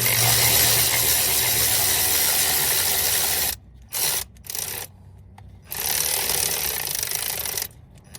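A socket ratchet clicks rapidly and continuously as the ignition control module bolt is tightened on a 1995 Chevy G20 van with a 350 5.7L engine, close and loud, with a few brief pauses.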